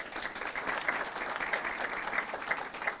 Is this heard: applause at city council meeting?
yes